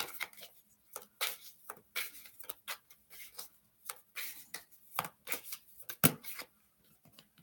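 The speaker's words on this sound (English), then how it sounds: "That was a super sticky shuffle" Tarot cards being shuffled in a sticky, uneven way, giving a series of short riffling bursts and flicks over several seconds with one sharper snap near the end, close and alone.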